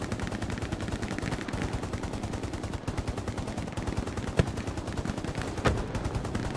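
Rapid gunfire from the World War II shooter Hell Let Loose on the Utah Beach map, a dense steady stream of shots with a couple of sharper, louder reports standing out near the end.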